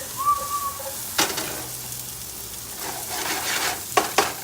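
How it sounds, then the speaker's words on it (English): Hawaiian-style fried rice sizzling and simmering in a pan, a steady close frying hiss with a few sharp stirring clatters of the utensil near the end and no talk. "Let that simmer. Let all the juices start rolling."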